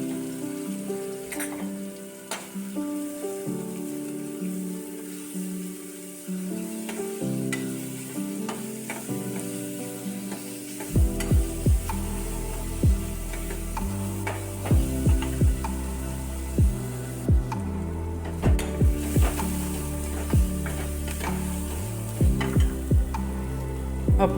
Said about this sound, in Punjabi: ਆਪਾਂ ਹੁਣ ਪਾ ਲੈਨੇ ਸਾਰਾ ਤੜਕੇ ਦਾ ਸਮਾਨ ਤੇ ਆਪਾਂ ਇਹਨੂੰ ਭੁੰਨਦੇ ਆ ਜੀ ਸਾਰੇ ਸਮਾਨ ਨੂੰ